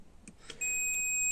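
A multimeter set to its continuity buzzer range gives a steady high-pitched beep while testing a vehicle horn, starting after a few soft clicks and holding continuously.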